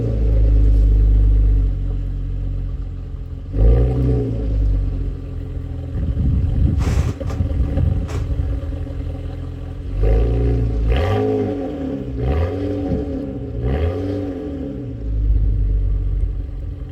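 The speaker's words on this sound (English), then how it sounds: "The car already has a catless downpipe, so she makes good sound, as you can hear here on the cold start." BMW 135i with a catless downpipe on a cold start, its engine barking loudly and then revving up and down several times in rising and falling sweeps between stretches of deep, rumbling idle.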